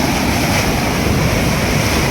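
Floodwater of the Machchhu river near Morbi surging and churning after heavy rain, a steady, loud broadband roar of rushing water close by with wind buffeting the microphone and no voices.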